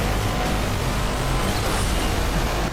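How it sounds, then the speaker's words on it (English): Heavy truck engine in the Asphalt Xtreme racing game, a loud, steady low rumble with constant roar throughout, heard alone without talk. "you hear this truck?"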